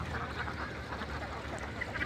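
Ducks quacking as they feed on paddy grain in water inside a net enclosure, a steady busy chorus of calls and splashing close by, with no talk.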